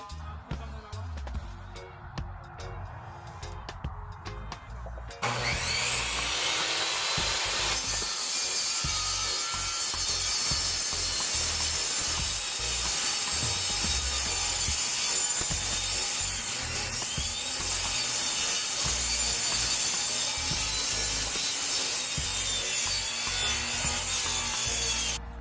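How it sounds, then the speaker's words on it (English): Boards being cut with a power saw while a storage shed is built, a loud steady woody rasp and grind running almost continuously after a quieter opening stretch, with mechanical clatter underneath. "We're still cutting some more board here."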